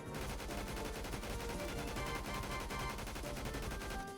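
The HBAR light machine gun from Phantom Forces fires as one unbroken, loud automatic burst of rapid, evenly spaced shots. The burst runs the whole stretch without a pause, with no voices over it.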